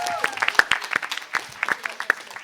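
A small audience applauds at a French quiz-show style event, loose scattered claps of uneven rhythm, with a voice briefly audible at the start.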